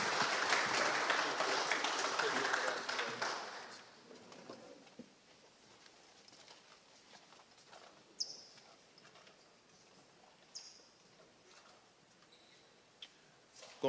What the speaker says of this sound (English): So have a round of applause for the Hereford County Bears.